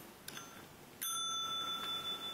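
A small bell, apparently rung by a pomeranian dog, gives a faint tap and then one clear ring that sustains and slowly fades, with no talking over it.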